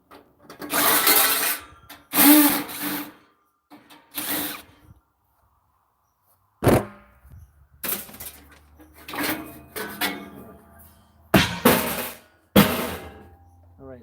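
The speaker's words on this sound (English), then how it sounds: "use a sawzall to cut these tubes out of here, or at least cut into there" A reciprocating saw cuts through metal tubes in several separate loud bursts of buzzing, broken by short pauses of near silence.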